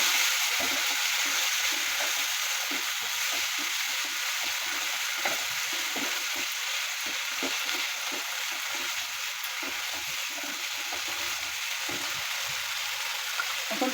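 Garlic-ginger spice paste hisses and bubbles in a pan after a little water is added, a continuous close, even sizzle with faint intermittent stirring scrapes and no talking.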